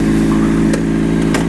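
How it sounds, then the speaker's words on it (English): Honda CBR600RR motorcycle engine revved hard, a loud sustained close roar with strong steady harmonics and a couple of brief clicks, no talking. "I did not mean to rev it so much"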